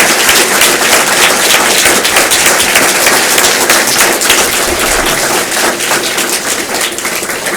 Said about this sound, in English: these folks deserve an amazing round of applause